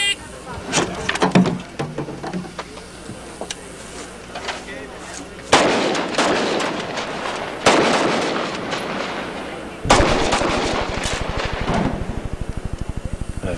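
A rifle fitted with a muzzle brake fires at a shooting event. Several loud, heavy blasts with booming, reverberant tails follow one another a few seconds apart, and talking is heard early on.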